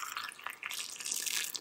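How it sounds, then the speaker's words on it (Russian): Hot water is poured a little at a time into a glass jar of pickling cucumbers, a steady close splashing trickle with bright liquid hiss throughout. "Только наливаем сначала по чуть-чуть горячей воды, чтобы банка не лопнула"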